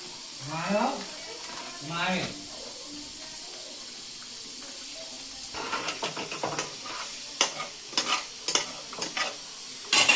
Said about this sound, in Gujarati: પનીર ફ્રાય થયું છે, હવે એક પ્લેટમાં નીકાળી દઈશું.